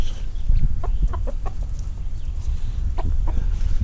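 Several chickens cluck and murmur nearby in short, scattered bursts over a steady outdoor background as they are fed mulberries in the morning.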